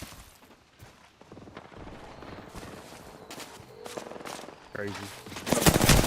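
Automatic and single-shot gunfire in the shooter game Apex Legends crackles in rapid bursts that grow denser and louder toward the end, with a player's voice speaking briefly over it.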